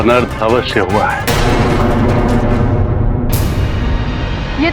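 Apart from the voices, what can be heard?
Mace strike sound effect in a mythological TV battle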